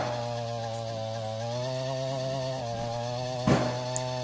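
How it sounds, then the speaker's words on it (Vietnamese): A handheld 68cc petrol-engine earth auger with a 30 cm double drill bit runs steadily, drilling soil; a loud, continuous buzzing engine drone holds throughout, close up, with a brief clunk near the end. "thì máy có thể khoan được mọi địa hình đất cứng, đất có sỏi đá nhỏ, đất có nhiều rễ cây bé và đất có nhiều gốc cỏ"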